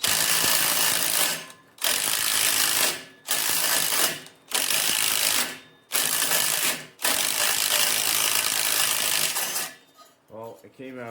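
A wrench ratchets on a stuck bolt on an old 1990s snowblower, with six bursts of rapid loud clicking separated by short pauses, then a brief rattle at the end.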